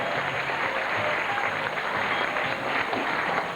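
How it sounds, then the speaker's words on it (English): Applause at a 1989 Sea-Arama dolphin show: a steady, dense broadband clatter that runs the whole length, consistent with splashing and applause at a marine park performance. It sounds continuous and fairly loud, with no voices over it. "This is a dolphin-style round of applause just for you to say thank you for coming out to see your monitoring world."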